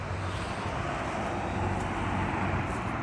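Steady traffic roar from busy Thunderbird Road, a continuous broad wash of passing cars heard from close by with no pauses.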